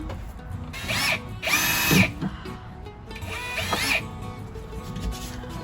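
Cordless power drill driving screws into a camper van ceiling during a van build, with three separate whirring bursts, each ending in a short high-pitched rise, and quiet workshop noise in between.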